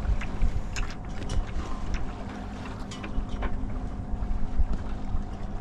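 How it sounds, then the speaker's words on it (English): Wind rushing over a sailboat at sea, a steady rumbling buffet with gusty swells and faint water and rigging noises mixed in. "wind that we haven't had all night is suddenly here right now"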